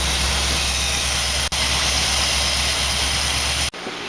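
A car engine with a rebuild-due carburetor and leaking valve cover gaskets idles steadily and loudly with a constant broadband hiss and low rumble, cutting out briefly near the end.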